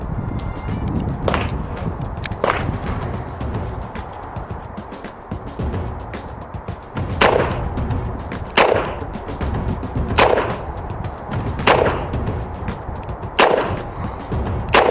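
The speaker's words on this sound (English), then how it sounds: "As promised, we're going to put a few rounds down range for the Security 6." A Ruger Security Six .357 Magnum revolver fires eight loud, sharp shots downrange at uneven intervals of one to two seconds, with outdoor ambience between them.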